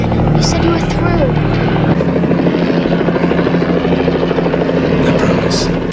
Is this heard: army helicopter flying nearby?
yes